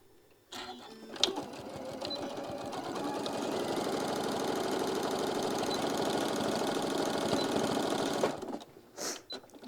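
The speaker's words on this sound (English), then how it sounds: "So the only thing left is to sew your little bitty opening closed." A sewing machine runs steadily for about eight seconds, stitching closed the small turning opening of a mini puff pouch, with a brief start-stop before it settles into a continuous, close, fairly loud hum.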